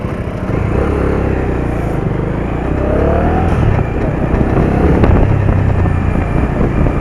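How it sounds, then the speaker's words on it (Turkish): A Bajaj Dominar 250 motorcycle engine runs loudly and continuously while riding, with a steady rumble and rushing road and wind noise throughout. "yeni motoru da bu. Dominar 250."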